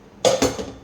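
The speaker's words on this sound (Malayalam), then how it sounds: "നമുക്ക് കുക്കർ തുറന്ന് നോക്കാം." The lid of a pressure cooker opened after cooking jackfruit, two quick close metallic clanks followed by a brief ringing tail, fairly loud in a quiet kitchen.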